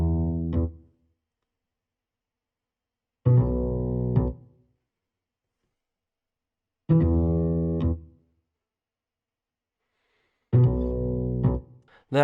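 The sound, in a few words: upright bass through Guitar Rig bass rig preset and EQ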